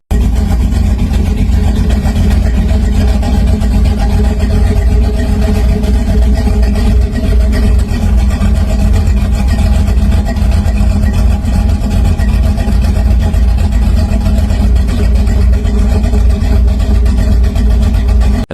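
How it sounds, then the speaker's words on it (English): The engine of a 1930 hot rod car rumbles steadily and loudly up close. The low, even drone holds throughout with no talk over it. "This is a 1930 Hot Rod."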